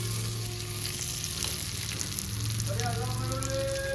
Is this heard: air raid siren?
no